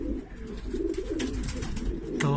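Pigeons coo in a loft of yearling racing pigeons, soft low rolling calls repeating close by, with a stronger coo near the end over faint rustling.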